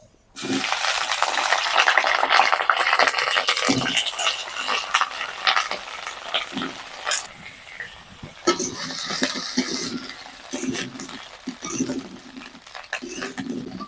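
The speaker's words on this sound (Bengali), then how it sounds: "ফুলকপিগুলোকে আমি একটু লাল লাল করে ভেজে নেব" Cauliflower pieces fry in hot oil, a dense crackling sizzle that starts strong and settles into uneven spitting and popping, heard close with no talking.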